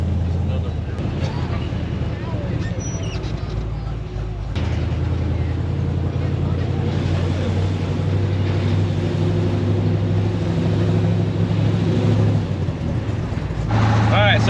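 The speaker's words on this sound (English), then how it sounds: "Just following the garbage truck" A heavy garbage truck engine idles and rumbles close by with a steady low drone, a shift partway through, and traffic noise around it during the Hot Rod Power Tour.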